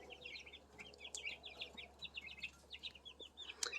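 Young turkey chicks kept as backyard livestock, a quiet run of soft, rapid peeping and chirping calls close by, repeating in short bursts.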